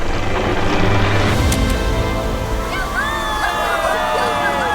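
Water from a newly built well gushing out and splashing down in Africa, a steady rushing wash with bright spattering that thickens partway through, heard alongside voices.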